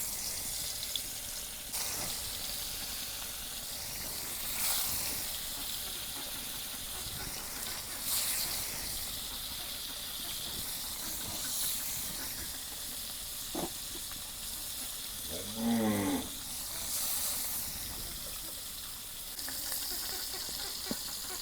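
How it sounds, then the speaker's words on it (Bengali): Big fish frying in hot mustard oil in a kadai for a village-style meal, a steady bright sizzle and hiss running the whole time with a few faint clinks and bubbling pops. "এখন মাছ ভেজে নেবো।"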